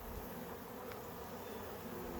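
Honey bees humming steadily around an open hive during an inspection, a faint continuous drone with no voices over it.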